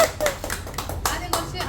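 Hands clap in a quick, steady run at a cake cutting, several people close by, with voices talking over the applause.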